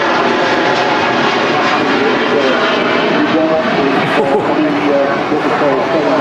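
Airliner engines roar steadily at Manchester Airport, a loud, continuous broadband rush that holds throughout with no break.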